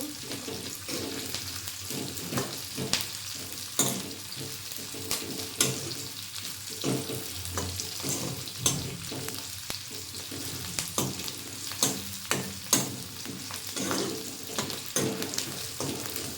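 Chilies and onions fry quietly in a pan with a soft continuous sizzle, broken by frequent light scraping stir strokes and small taps of a spoon against the pan.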